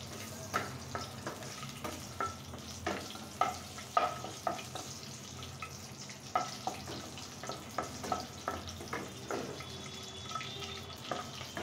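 Bay leaf, cardamom, cloves and cinnamon pieces sizzle in hot cooking oil, a steady close crackle with soft clinks and stirring clicks scattered throughout, no talking.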